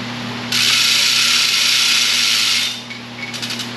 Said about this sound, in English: I had to put a chain fall up.